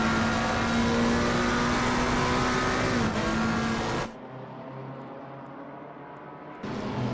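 GT3 race cars at Watkins Glen in Assetto Corsa Competizione, engines roaring loudly at high revs with a sharp gear change, then a cut to a quieter muffled engine drone before full volume returns.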